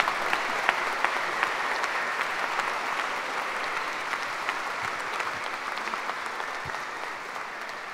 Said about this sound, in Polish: Wielkie brawa, zachęćmy ich.